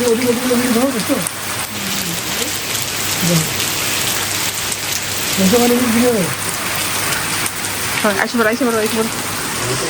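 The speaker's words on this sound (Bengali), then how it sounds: "প্রচুর বৃষ্টি মানে ক্যামেরাতে বোঝা যাইতেছে না কিন্তু আসলে অনেক বৃষ্টি দেখো" Heavy rain pours down in Greece in a loud, constant hiss, with people talking over it now and then.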